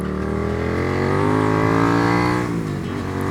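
A Suzuki SV 650 motorcycle's engine rises steadily under load, then eases off, loud and close with a strong, gruff, layered tone and no talk.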